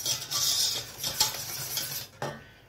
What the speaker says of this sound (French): Mettre les 120 g de sucre. Vous allez bien mélanger.